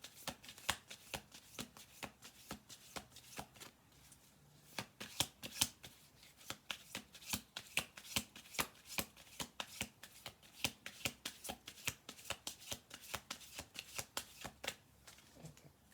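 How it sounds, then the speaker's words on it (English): A deck of cards is shuffled again and again, close and quiet, in rapid riffling bursts of crisp flutters broken by brief pauses, with no talk. "I'm going to do 2 more shuffle throughs on this."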